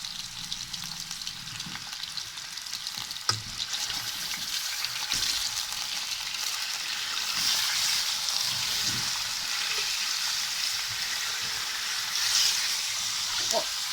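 Chicken frying in a karahi, a steady hissing sizzle with occasional clinks and scrapes of stirring, close and continuous, with faint speech here and there.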